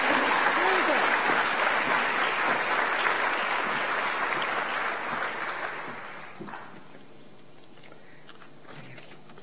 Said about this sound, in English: Let's give a huge crowd round of applause for our finalists.